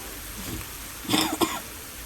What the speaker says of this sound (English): sorry for that cough